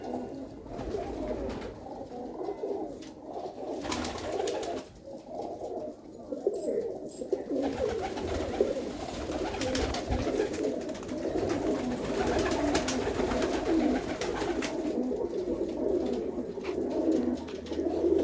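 A flock of pigeons at a village loft coos steadily in soft, layered throaty calls that continue without a break, nearby and moderately loud, with faint background rustling.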